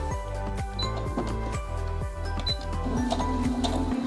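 Baby Lock Jubilant portable sewing machine stitching, a fast even mechanical clatter of needle strokes running steadily throughout, close and clear with light clicks on top.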